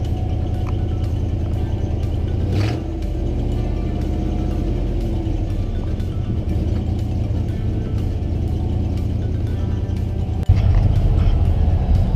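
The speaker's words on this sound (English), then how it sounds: "So the car has been running for a while now." A 1978 Buick Skylark's engine idles steadily at close range, a constant low rumble with a faint rhythmic ticking and a brief squeak-like burst midway, no one speaking.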